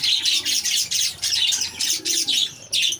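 Caged breeder birds call in a run of repeated bright chirps and coos, loud and close, in short bursts with brief gaps and no talking.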